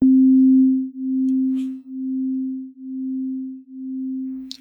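Eleven sine waves spaced 0.1 Hz apart sound as a single steady low tone that swells and dips in slow, regular beats about once per second, with a couple of faint clicks.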